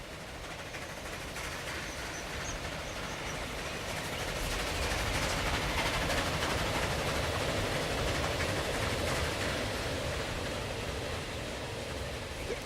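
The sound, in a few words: train passing in the video game Transport Fever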